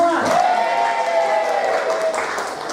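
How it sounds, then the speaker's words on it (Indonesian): Audience applause at a teacher in-house training session for a junior high school, a dense wash of clapping filling the room with a voice heard over it. "Tepuk tangan buat kita semua."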